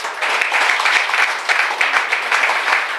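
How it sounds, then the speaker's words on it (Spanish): Dense applause from a church congregation, steady and continuous at full volume throughout, with no voices standing out. "Así que denle un fuerte aplauso por ellas."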